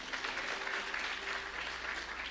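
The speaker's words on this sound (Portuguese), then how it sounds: "Pode aplaudir a Jesus pelo tema?" A church congregation applauds steadily and loudly during a sermon, the dense clapping filling the whole stretch with no speech over it.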